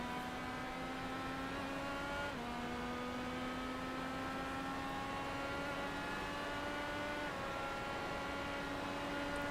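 IndyCar engine in the iRacing video game idling at low revs on pit exit at a super speedway, a steady droning tone that dips briefly and then holds with only slight pitch shifts.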